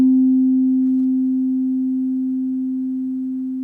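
Two pure tones sound perfectly in tune, merging into one steady hum with no beating, slowly fading in loudness.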